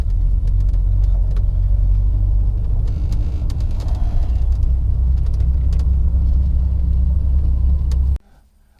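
A 1974 Chevrolet Corvette with the L82 V8 idling and creeping in reverse, a deep steady low rumble close by with a slight rise in the middle, cutting off abruptly near the end.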